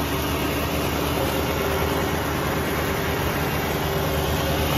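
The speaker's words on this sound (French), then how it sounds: "Et voilà le moteur qui tourne" A 1965 Ford Mustang coupe's V8 idles steadily, a constant dense rumble heard up close with no voices.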